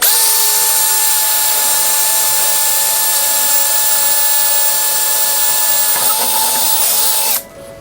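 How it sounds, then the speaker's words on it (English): A power drill whines steadily at close range for several seconds while drilling a hole in a tool tray, its pitch holding level before it cuts off abruptly near the end. "and drilling the second hole."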